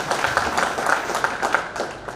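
Crowd applause at a cosmetics shop grand opening in Peshawar, a dense continuous patter of many hands clapping at moderate volume, steady for the whole stretch with no speech.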